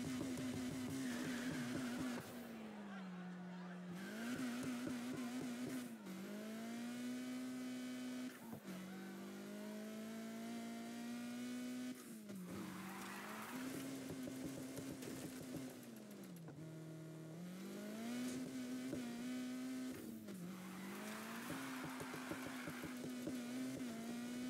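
In Need for Speed Heat, a car on drift tires revs and drifts with a continuous loud engine drone that rises and falls through repeated gear and throttle changes. Tires squeal in places and no one speaks.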